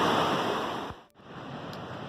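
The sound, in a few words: river water flowing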